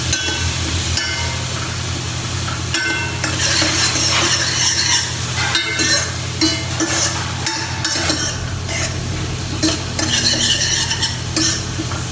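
Chopped onion, chili and curry leaves sauté in a hot pan with urad dal for ghee uppumavu, a steady loud sizzle broken by repeated scraping and stirring knocks of a utensil against the pan, with no talking.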